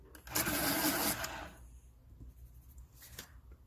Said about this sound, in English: I'm going to pull my coral, my macaron, and I'm going to sharpen that a little